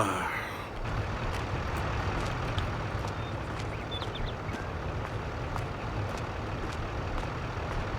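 A truck backs up in Farming Simulator 22, its engine a steady low drone with faint, regularly spaced clicks or beeps over it.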